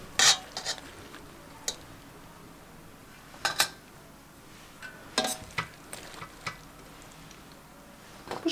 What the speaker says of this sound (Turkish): Şimdi fasulyemizi kızartma süzgeciyle dibindeki suyu almayalım. Şöyle süzdüre süzdüre tepsimize dizelim.